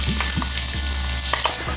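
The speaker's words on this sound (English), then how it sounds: "The seeds start to splatter." Chopped onion hitting hot oil with cumin seeds and spices, giving a loud, steady close-up sizzle with a few soft stirring scrapes on top and no voices.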